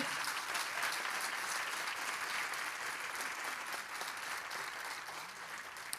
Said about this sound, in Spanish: ¿Puede darle un fuerte aplauso al Señor usted?